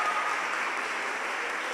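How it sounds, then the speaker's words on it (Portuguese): Audience applause at a Spiritist gathering, a steady dense patter of many hands clapping, moderately distant and even throughout. "Aplausos, gente."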